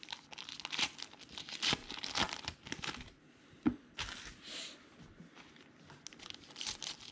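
Diamond Kings trading card packs from 2019 being torn open during a box break, with repeated crinkly foil rips and rustling crackles in quick irregular bursts, close and moderately loud, with no talk.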